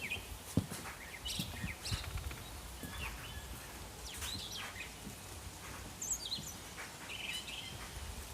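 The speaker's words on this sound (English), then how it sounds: "You just sit here listening to the birds for a minute." Birds singing outdoors near a balcony garden, with scattered chirps and short calls coming from various distances over a quiet background and a few soft nearby knocks.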